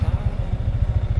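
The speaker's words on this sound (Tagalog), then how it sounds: "maririnig nyo yung tunog ng makina" A Yamaha Sniper 155 motorcycle engine runs during a slow ride, its low exhaust thrumming in a quick, steady pulsing beat that stays loud and close throughout.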